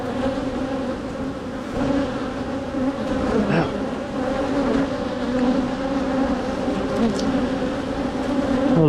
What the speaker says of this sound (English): Lots of bees here. Look at all these bees.